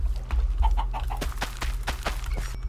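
Chickens clucking in the video game Minecraft, a short run of soft repeated clucks and a few sharper calls spaced across a few seconds, close and moderately loud over a steady low background hum.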